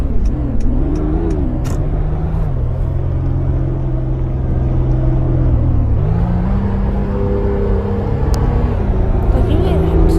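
A Mazda RX8 engine idles and revs in drive, then in sport mode, with rising and falling pitch sweeps and a deeper, steadier rumble later, close and loud.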